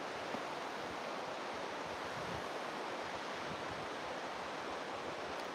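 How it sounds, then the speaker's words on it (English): A river flows outdoors, its steady broadband rush of water continuous and fairly close, with no voices over it. "the sound of the river."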